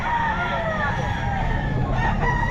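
A bulstag gamefowl rooster crows loudly and close at a busy pet market, one sustained crow over dense crowd murmur and traffic noise.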